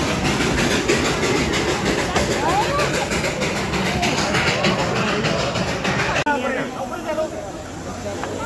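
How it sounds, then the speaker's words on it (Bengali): The Darjeeling toy train rattles along with a steady clickety-clack of wheels on track, close and continuous, while people chatter nearby before the noise shifts abruptly near the end. "1 জানুয়ারি 2025, দার্জিলিং টয় ট্রেন।"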